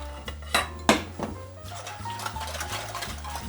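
Milk poured into a roux in a pot for a bechamel sauce, with a few loud clanks of utensils against the pot followed by a soft bubbling sizzle and faint clinks, no talk.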